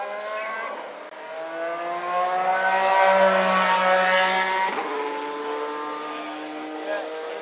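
An IndyCar race car on a last-minute qualifying run at the 2018 Indianapolis 500 Bump Day screams past, its engine pitch rising to a loud peak and then dropping away, with crowd noise and a voice speaking over it.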